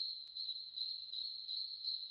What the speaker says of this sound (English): The next element that I added is this cricket sound.